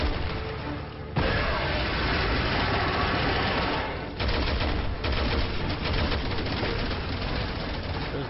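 Sustained automatic gunfire in Resident Evil 6, a dense, continuous rattle of shots on Professional difficulty, with brief pauses between long bursts and no voices.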